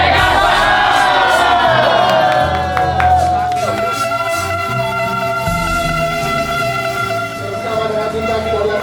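Loud crowd cheering and clapping at a film gala premiere for Modal Nekat, a dense continuous roar of voices filling the hall with a host's amplified voice over it.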